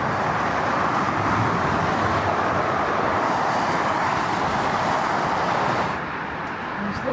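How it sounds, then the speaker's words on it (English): Steady roar of traffic on the busy A174 dual road, heard from a footbridge crossing above it; a continuous, fairly loud wash of passing vehicles that eases slightly near the end. "Got this big noisy road ahead,"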